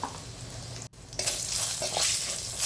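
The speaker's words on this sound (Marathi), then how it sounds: "आणि छान असं तेलात फ्राय करून घेतलं आपण" Green chillies with turmeric and chilli powder sizzling in hot oil for an aloo gutke dish, a steady frying hiss that briefly cuts out, then returns louder and brighter as the spices are stirred in.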